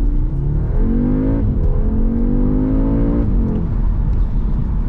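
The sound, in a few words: 2021 Audi S3 car accelerating on wet road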